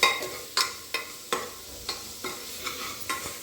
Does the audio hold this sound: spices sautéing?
yes